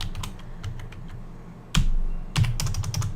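Rapid clicking keystrokes on a computer keyboard, with a few louder key presses mixed in, close up and irregular, over a low background hum.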